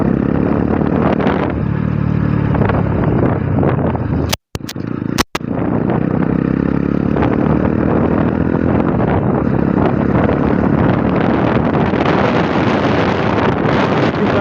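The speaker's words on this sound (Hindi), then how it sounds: "हवा आज बहुत तेज़ छूटा है, इधर ऑपोजिट हवा मार रहा है" A strong headwind batters the microphone while riding a TVS Apache motorcycle toward Salaulim Dam in Goa. A loud, continuous roar of wind buffeting covers the whole ride, broken only by two brief dropouts.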